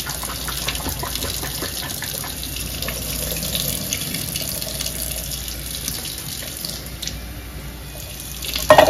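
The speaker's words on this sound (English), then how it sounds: "This is the green beans in the can. We're gonna wash it." Canned green beans are rinsed under a running kitchen tap, a steady loud gush of water splashing into a sink that keeps going with no talk and ends in a brief clatter.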